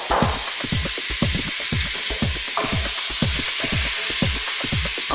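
Butter sizzles and spits in a pan of hot regular cooking oil, a steady broadband frying hiss with rapid close crackles and pops throughout, no talking.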